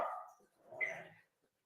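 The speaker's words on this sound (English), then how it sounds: "Barnum, don't bark at her" A dog barks twice close by, a loud sharp bark followed by a second, softer bark, then a brief faint yip, heard indoors during a live stream with no one talking over it.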